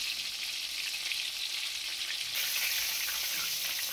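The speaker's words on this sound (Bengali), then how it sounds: "মিডিয়াম টু লো ফ্লেমে মোটামুটি 8 থেকে 10 মিনিটের জন্য চিকেনটাকে ভেজে নিতে হবে।" KFC-style chicken pieces deep-frying in hot oil over a medium-to-low flame, a steady dense sizzle throughout that grows louder and brighter partway through, with no voices.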